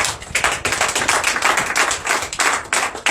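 Rhythmic group clapping in acclamation of Jesus during a morning prayer gathering, loud and close with steady, evenly spaced beats.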